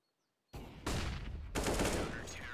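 Rapid pistol gunfire from the video game Counter-Strike on the Inferno map, a sudden loud burst of overlapping shots that keeps going for about two seconds, close and dense, with no talk.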